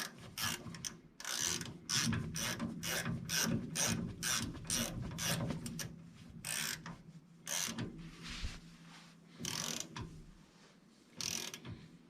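Hand ratchet tightening a 5/8 nut on the front brake of a 1974 MG Midget 1275, quick repeated clicking strokes in bursts with short pauses, fairly quiet and close.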